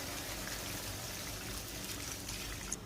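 Water pours steadily into a cooking pot over spices sautéed for rice, giving a continuous, fairly quiet gushing trickle with a small splash near the end.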